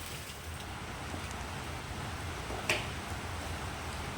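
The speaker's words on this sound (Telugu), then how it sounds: "ప్రశాంతంగా వర్షం వస్తుంది" Steady, soft hiss of rain falling continuously, with a single brief click partway through.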